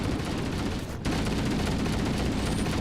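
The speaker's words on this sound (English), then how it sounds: "Why do I keep throwing grenades?" Explosions and gunfire from Halo: Combat Evolved gameplay, a dense continuous roar of blasts with a brief dip near the one-second mark, loud and busy with no talk.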